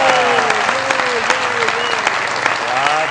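Loud studio audience applause on a Pakistani comedy show, dense steady clapping filling the whole stretch with voices and music tones audible underneath.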